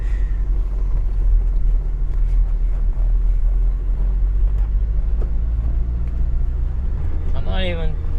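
A Citroen Xantia car drives slowly along a road, its engine giving a steady low rumble with continuous road noise throughout and a brief higher whine near the end.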